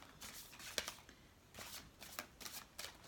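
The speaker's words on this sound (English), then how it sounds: "I always pre-shuffle my cards and pray over them" Tarot cards being shuffled in several quick riffling bursts with short pauses between them, close by and crisp against a quiet room.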